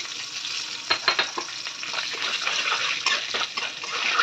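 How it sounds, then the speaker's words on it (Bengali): Dried red chilli, bay leaf and whole cumin seeds sizzle in hot oil for Bengali tempering, a steady close crackling hiss with a few sharper spits and pops throughout. "এরপরে ফোড়নে দেব একটা শুকনো লঙ্কা চিড়ে দিয়ে দিলাম, তেজপাতা আর গোটা জিরে।"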